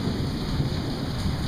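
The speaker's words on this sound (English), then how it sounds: "Rainy, rainy day on Daniel Island." A steady afternoon rain shower on Daniel Island in July pours down in a dense, even hiss with no voices.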